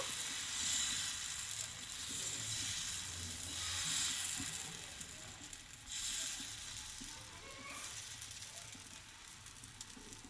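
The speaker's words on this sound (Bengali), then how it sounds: "এইভাবে মেয়ে আমার এক পিঠ আমি ভেজে নেব" Batter for a lacy tiffin snack sizzling in a pan, a steady hiss of frying oil with soft crackles, fairly quiet and continuous with no voices.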